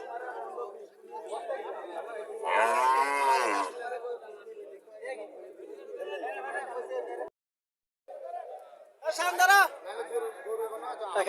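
Cattle lowing at a busy village cattle market in Bangladesh, with several loud drawn-out moos rising above constant nearby chatter and bargaining voices, one short gap of silence near the end.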